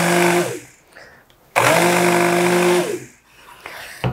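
An electric stick blender pulses on and off twice while mixing cold-process soap in a pan, a loud steady motor whine with short pauses between bursts and no talk.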